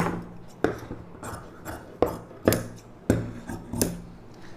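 Sharp snipping clicks of scissors cutting blouse fabric for a U-neck blouse, several crisp cuts in an uneven rhythm, close and fairly quiet with no talking.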